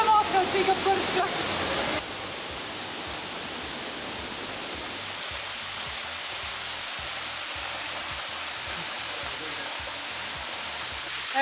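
A waterfall in a Bali canyon throws blowing spray, making a steady, loud, close roar of rushing water that fills the whole stretch, with a brief voice at the very start.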